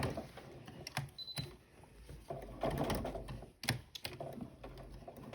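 A sewing machine top stitching around a pleated fabric face mask: close, quiet rapid mechanical clatter of the needle in uneven runs, with small knocks and clicks between bursts and no talking.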